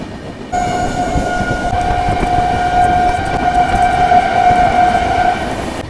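Barbil Jan Shatabdi Express rolling through Santragachi railway station, a loud continuous rumble of wheels on track with a long sustained horn blast running over it nearly the whole time, no talking.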